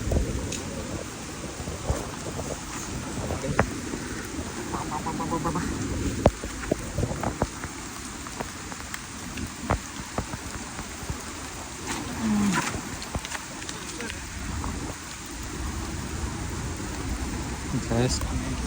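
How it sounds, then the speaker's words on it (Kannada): Steady heavy downpour at a waterfall in Kargal, with rushing water roaring continuously and voices talking faintly underneath. "ಈ ಮಳೆಯಿಂದ ಫಾಲ್ಸು ನೀರು ಜಾಸ್ತಿ ಆಗಿಬಿಡುತ್ತೆ"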